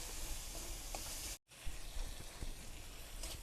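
Salt and turmeric powder hitting a spice masala frying in a pan give a steady, fairly loud sizzle with brief stirring clicks and a short silent cut partway through.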